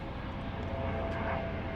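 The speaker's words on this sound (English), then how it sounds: "we've got an Air Dolomiti plane getting ready to go to Frankfurt" An Air Dolomiti airliner at London City Airport, readying to depart for Frankfurt, runs its engines in a steady, continuous roar that stays fairly loud throughout with no voices.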